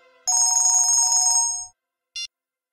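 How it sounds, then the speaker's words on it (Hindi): A mobile phone ringtone plays a bright electronic melody for over a second, then cuts off, followed by one short high beep. "अब तो मोबाइल की रिंगटोन निकाल रहे हैं।"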